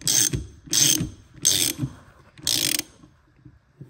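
Ratchet wrench tightening a press tool on a Lotus Elise S1 rear suspension part, with four distinct clicking bursts at a steady hand-cranked rhythm, close and fairly loud, followed by a brief pause.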